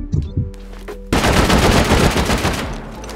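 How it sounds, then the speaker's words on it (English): Rockets blow up during a raid in a video game: a few short thumps, then a loud sustained burst of crackling, rattling explosions that fills the rest of the moment. "all the rockets and then explode them"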